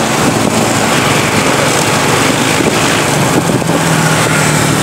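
An old-stock Honda Wave motorcycle rides along with its small engine humming steadily, heavily masked by loud wind rushing across the microphone.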